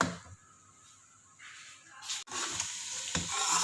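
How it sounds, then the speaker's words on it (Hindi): Butter chicken gravy paste cooks over a low flame in a pan, giving a soft, steady sizzle and bubbling with brief scraping stirs near the middle and end. "इसको लो फ्लेम पे हम थोड़ी देर पकाते हैं"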